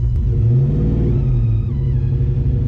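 A Fox Body Ford Mustang engine idles loudly in a driveway, a heavy, rumbling low drone close by with a slight rise and fall in pitch and no talking.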